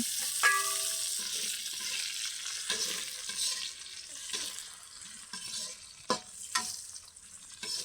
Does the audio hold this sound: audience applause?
no